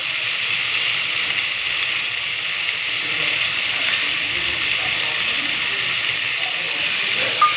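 Spices frying in a pan for potol kurma, a pointed gourd curry, give a steady, even sizzling hiss that carries on without a break and with no voices over it.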